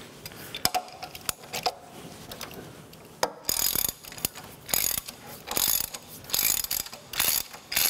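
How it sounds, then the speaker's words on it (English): Socket cap screws coming out of a radial drill's universal table during disassembly: a run of sharp metallic clicks and ratcheting, close and fairly loud, in irregular bursts with short pauses between them and no talking. "let's go ahead and take those socket cap screws out"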